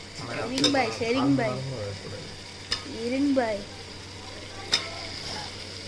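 Chicken frying in a pot for seeraga samba biriyani, a soft sizzle with a few sharp clinks of a spoon stirring against metal, heard beneath someone talking.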